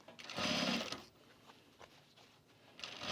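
A sewing machine stitches a travel bag in short bursts, a close whirring run lasting about half a second, then quieter handling sounds and a second brief burst at the end.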